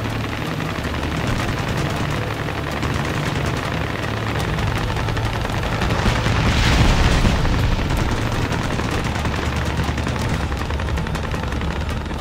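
Helicopter gunfire destroying barricades in Ace Combat Assault Horizon: a steady, dense roar of rapid firing and rumbling impacts, swelling briefly louder midway, with no voices over it.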